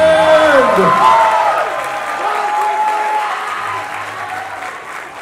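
Audience at a male pageant competition applauding steadily, loud at first and slowly fading, with an announcer's voice and background music mixed in.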